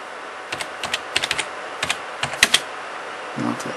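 Keystrokes on a computer keyboard come in short bursts with brief pauses, fairly close and clear, with faint room noise and no voice.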